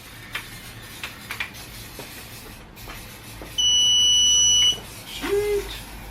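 Digital torque wrench tightening head bolts on a forged 1.8T engine, sounding one steady electronic beep of about a second amid faint workshop clicks and handling noise, followed by a brief lower tone.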